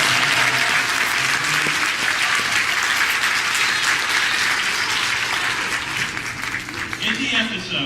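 A church audience applauding Squidward at a SpongeBob-themed Sunday performance, sustained dense clapping from many hands close by, with voices mixed into the clapping.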